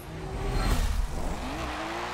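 A BMW engine in Forza Motorsport 7 revs and roars briefly, rising then dropping in pitch, with a faint tire squeal, fairly quiet overall.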